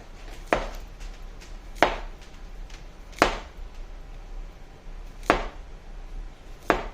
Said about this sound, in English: you want to cut them about a ½ inch thick, thereabouts